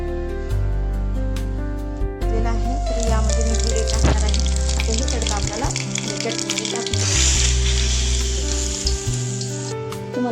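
Cumin and spices crackle and sizzle in hot oil for a tempering, a continuous frying hiss with voices and steady tones in the background.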